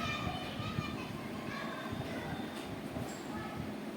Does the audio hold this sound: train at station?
yes